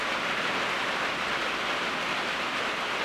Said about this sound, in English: Today's still raining, not as hard.